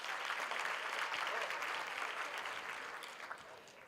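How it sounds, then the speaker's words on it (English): Audience at a university graduation ceremony breaks into steady applause, a dense wash of clapping that stays even and then fades slightly toward the end, heard from some distance in a large hall. "I thought you were going to give him a round of applause for that."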